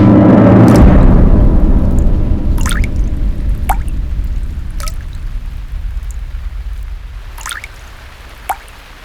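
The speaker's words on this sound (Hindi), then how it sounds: "पानी कहाँ टपक रहा है? लगता है किसी ने नल खुला छोड़ दिया है।" Water drips from a tap left open, with several distinct drops falling at irregular intervals over a low, rumbling background hiss that fades slightly across the clip.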